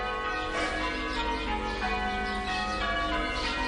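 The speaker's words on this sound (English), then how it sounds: "Why are those bells ringing?" Church bells ringing to celebrate the repeal of a law, a steady wash of overlapping bell tones heard at a distance, faint and continuous without talk.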